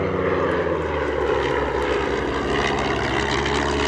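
RAF de Havilland Chipmunk piston-engine trainer flying overhead at a display at East Kirkby, a loud steady propeller drone throughout with no voices.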